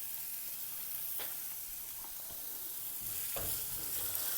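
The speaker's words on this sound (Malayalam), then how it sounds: "ഒരു പാൻ ചൂടായി വരുമ്പോൾ അതിലേക്ക് ഒരു 2 ടേബിൾ സ്പൂൺ വെളിച്ചെണ്ണ ഒഴിച്ച് 1 ടേബിൾ സ്പൂൺ അളവിൽ ഇഞ്ചി വെളുത്തുള്ളി കട്ട് ചെയ്തതും കൂടി ചേർത്ത്" Chopped ginger and garlic sauté in coconut oil in a hot pan, a quiet continuous sizzle broken by a few soft stirring scrapes.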